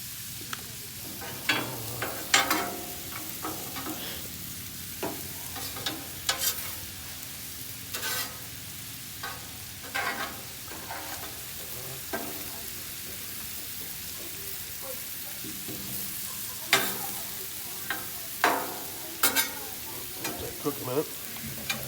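Broccoli, carrots, squash and cauliflower with butter sizzle steadily on a grill, with intermittent scraping and clacking as the vegetables are stirred, close and continuous.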